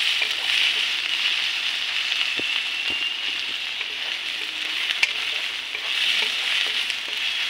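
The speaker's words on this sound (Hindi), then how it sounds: "प्याज का भून गया है" Onions sizzle steadily in a frying pan with occasional scrapes and taps of a spoon stirring them, a continuous close hiss with no talking.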